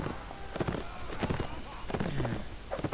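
Horse hooves clip-clop in the medieval combat game Mount & Blade, with quick, uneven beats during a mounted fight. A voice talks over the hoofbeats and a horse whinnies briefly.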